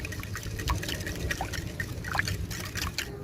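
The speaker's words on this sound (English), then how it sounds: "And then we whisk it together." Pancake batter of flour and improvised buttermilk being whisked in a bowl in a village kitchen, a soft wet sloshing with light clicks of the whisk, close and continuous, no talk.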